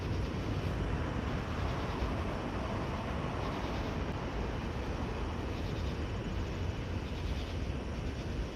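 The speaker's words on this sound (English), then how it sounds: "the train's actually going by right there" A train passes at night, a steady, continuous broadband roar and rumble that holds at an even level throughout, with no voices.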